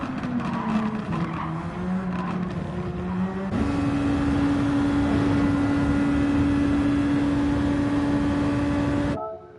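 A Super Formula SF23 race car engine at Suzuka circuit, revving hard with a high steady whine that jumps up in pitch after a shift, then holds loud and close before cutting off abruptly near the end.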